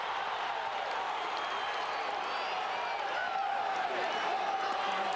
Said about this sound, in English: The Iowa fans in the crowd going crazy